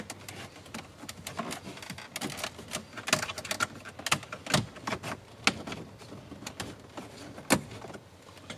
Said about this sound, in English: Next, we have to take this trim off, so I'm going to start by just working the bottom edges first.